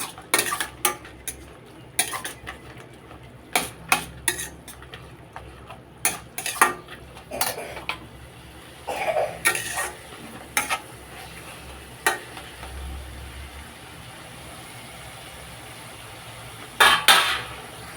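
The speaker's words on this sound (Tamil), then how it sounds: "இப்போ நம்ம நல்லா வதக்கிடுவோம்." Mint leaves being sautéed in a pan for mint chutney, with repeated sharp clinks and scrapes of a metal spoon against the pan over a soft background hiss, no talking.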